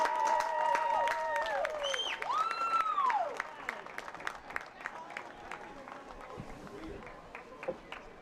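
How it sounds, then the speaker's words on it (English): A crowd applauds the senior players of a 2018 Elmhurst College football team at a game, with broadband clapping throughout, overlaid by tonal whoops and cheering voices that fade into a scattered, thinner crowd later on. "let's have one last round of applause for the senior members of the 2018 Elmhurst College football team"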